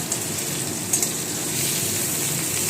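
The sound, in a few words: young jackfruit frying in oil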